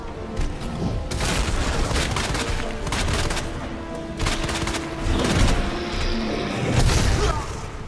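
Dense volleys of gunfire in Resident Evil 2 Remake as shots are aimed at Birkin's eye, loud booming blasts and rapid bursts layered over a rumbling game soundscape, with no talk.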